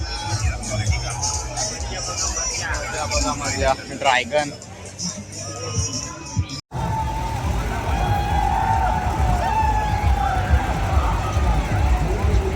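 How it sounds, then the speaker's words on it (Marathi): A dense crowd at the Mahalakshmi fair fills the air with loud, steady babble and traffic rumble, heard up close. Someone talks over it, and after an abrupt cut the noise turns broader and denser. "एवढी गर्दी"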